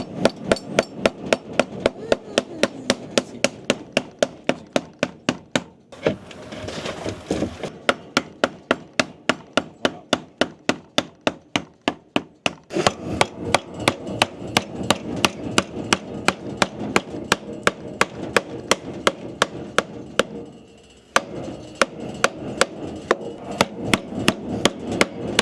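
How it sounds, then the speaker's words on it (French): A mallet strikes wood again and again while a wooden plate is shaped, the loud sharp knocks coming in a fast, steady rhythm with two brief pauses. "Sinon, tu peux le faire au marteau."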